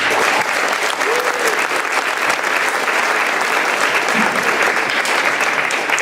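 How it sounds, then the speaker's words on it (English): A graduation audience claps steadily for several seconds, dense sustained applause filling a large room without breaks. "I'd like to give you a round of applause."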